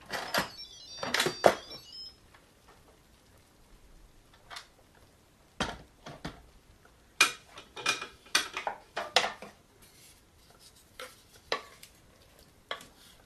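An Instant Pot's lid is opened and the pot handled after its pressure has dropped, giving scattered sharp metallic clicks and clanks with quiet gaps between them.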